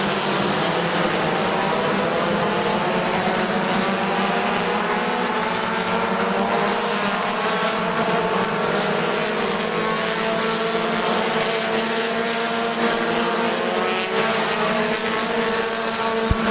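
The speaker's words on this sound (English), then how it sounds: "Brent Schreffler checking out 5 laps to go this time." Compact race cars racing at Midvale Speedway, a loud continuous pack of engines droning and shifting pitch as the cars pass, with no talk over them.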